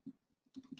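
A few quick keystrokes on a computer keyboard as a command is typed at a command line, a soft click near the start and a small cluster of taps near the end, faint and close.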